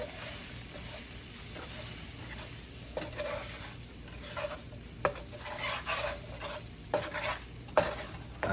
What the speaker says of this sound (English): I'm going to stir fry both of those together